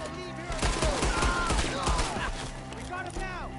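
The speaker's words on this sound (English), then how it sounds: "Shoot the ones up there!" Rapid gunfire cracks out in a dense fusillade during a shootout in Red Dead Redemption 2, loud and close, mixed with shouting voices and fading into scattered shots.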